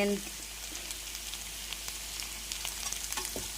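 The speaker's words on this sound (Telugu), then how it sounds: "ఇలా గోల్డ్ కలర్ వచ్చే వరకు వేపుకోవాలి ఫ్రెండ్స్" A pan of chicken curry ingredients fries with a steady, close hiss and crackle, broken by occasional stirring clicks as it browns to golden.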